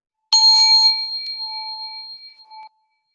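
A metal singing bowl is struck once during a mindfulness session, giving a bright ringing tone with several steady overtones that slowly fade over about two seconds, with no voices.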